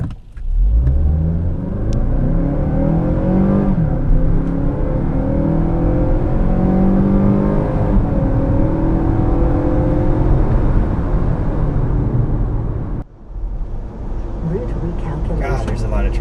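A 2016 Mazda CX-5 compact crossover accelerates hard, its engine note rising steadily and loudly through a long pull before a brief dip, like a gear change, and then continuing to drone.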